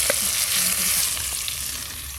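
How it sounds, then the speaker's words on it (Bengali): Tomatoes stirred and frying in hot mustard oil over a village clay stove, a loud, continuous bright sizzle with occasional soft scraping knocks and no talking. "ওই একই তেলে টমেটোগুলো একটু হালকা করে নেড়ে নেব।"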